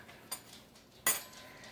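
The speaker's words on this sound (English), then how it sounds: "Just use my fork. Let's just mix this up." A fork clinks twice against a bowl while stirring dry muffin ingredients: flour mix with baking powder, cinnamon, ground nutmeg and kosher salt for banana oat chocolate chip muffins. The two light metallic taps are sharp and close in a quiet room.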